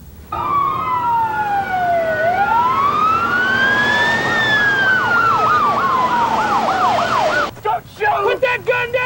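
Emergency vehicle sirens wail and yelp loudly as responding units approach, several rising and falling tones overlapping for most of the stretch before breaking off into choppy bursts near the end.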